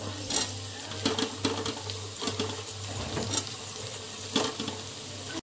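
Tomatoes tipped into softened ivy gourd pieces in a pan, with scattered clinks and stirring scrapes over a low steady sizzle and hum, fairly close and moderate in level.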